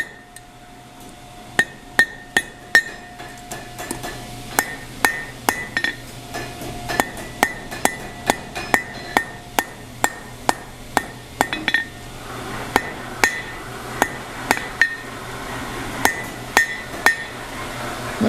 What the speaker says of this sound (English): I did it by always hammering straight through the piece of steel into the anvil